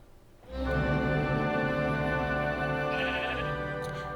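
A sheep in a video game bleats loudly and close, one long wavering cry that holds for several seconds against a quiet background.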